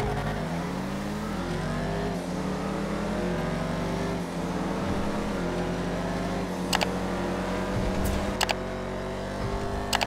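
Engines of a Vigero ZX and a Jugular race in the video game GTA 5, roaring loudly and continuously with rising and falling revs, gear-change dips and a few sharp clicks near the end.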